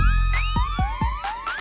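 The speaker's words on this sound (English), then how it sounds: "then I added a sped up air raid siren" A rapid, sped-up air raid siren wails in quick rising sweeps, loud and alone, the tone climbing and restarting several times in under two seconds.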